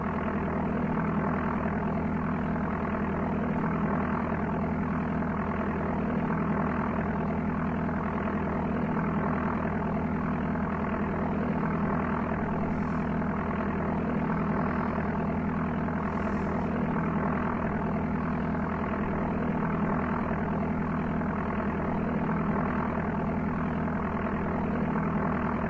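Steady, loud propeller aircraft engine drone from the Amiga game Flight Simulator II, a continuous hum with layered low harmonics that stays unbroken throughout with no voices.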